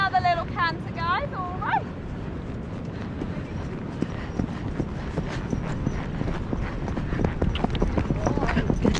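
A horse canters along Perranporth Beach in Cornwall on a guided stables ride, its hooves beating a steady, close rhythm of muffled thuds on the sand through the whole stretch, with wind noise and a person talking near the start.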